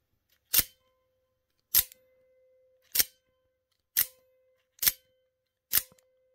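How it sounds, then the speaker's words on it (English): A knockoff Microtech Combat Troodon OTF knife fires its blade six times at steady intervals, each a sharp, close snap. Several are followed by a faint lingering metallic ding ringing on briefly. "you could definitely hear in the knockoff has that ding sound, which is pretty noticeable."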